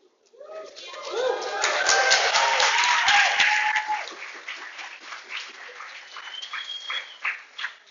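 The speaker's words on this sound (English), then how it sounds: "I have never had that much cheering in a class before" Students in a college lecture class cheer, whoop and clap together, the noise swelling quickly to a loud peak and then tapering into scattered shouts and claps.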